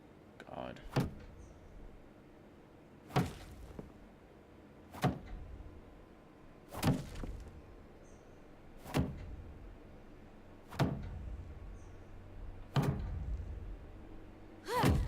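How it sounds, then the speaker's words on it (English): Repeated kicking against walls in The Walking Dead: The Final Season: a series of sharp, evenly spaced thumps about every two seconds over a low background hum, close and fairly loud. "What is that sound? Can you stop kicking the walls?"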